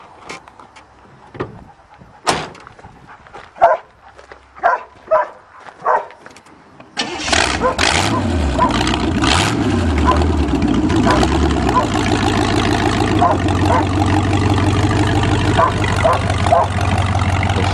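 An old Chevrolet car engine in a farm back field cranks in several short bursts, then catches and settles into a loud, steady, rough idle close by.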